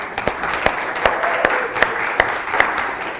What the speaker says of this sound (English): actually a round of applause for everyone here